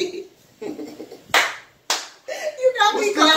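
Hand clapping: a few sharp, close claps between stretches of a person talking.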